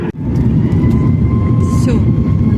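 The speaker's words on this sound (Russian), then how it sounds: "Все, мы пошли на взлет. Сильнее загудели моторы." Airliner engines roaring loud and steady during takeoff from Vancouver, heard from inside the cabin near the engine, a dense constant drone with a faint whine above it and a brief dip at the start.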